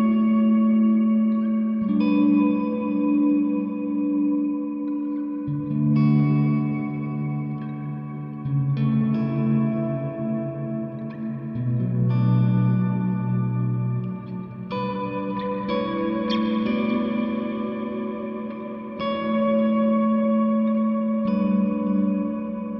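Electric guitar playing tenth chords through ambient effects with echo, chorus and reverb, heard alone and up close as a slow sequence of lush, washy strummed chords that sustain and blend into one another.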